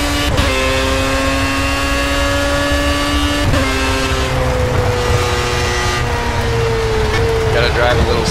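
Simulated Indy car engine in Project CARS racing game revving hard and climbing in pitch through gear changes, a loud continuous whine with a brief shift dip, with someone talking over it.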